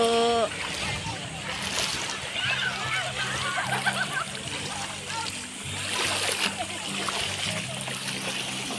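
People swimming and splashing in the sea at Morong, Bataan, with continuous splashing and sloshing water close by, mixed with voices and chatter throughout.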